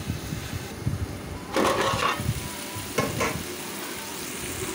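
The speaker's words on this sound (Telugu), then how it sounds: "బాగా ఫ్రై అయ్యి మనకి ఆయిల్ అన్నది బయటకు వచ్చేసింది కదా" Tomato chicken curry frying in oil in a pan, a steady low sizzle with two louder bursts of crackling as the mixture is stirred, close and alone without speech.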